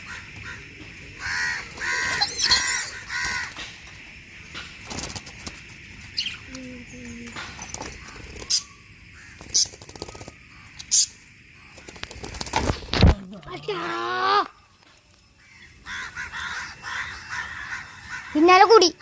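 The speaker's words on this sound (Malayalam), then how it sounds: "പിന്നാലെ കൂടി കാക്ക പിന്നാലെ കൂടി." A crow caws in a series of sharp, harsh calls near the start, followed by scattered chirps while a person talks loudly over much of the scene.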